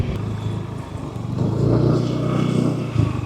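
A motorcycle engine rumbling and revving nearby as a bike rider pulls away after dropping passengers at a main gate in Manila, steady and loud with no talking.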